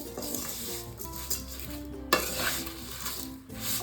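Thin vermicelli (shavige) is stirred and dry-roasted in a pan over a low flame, giving a steady scraping rustle with soft clinks of the spoon against the metal and one sharper knock partway through.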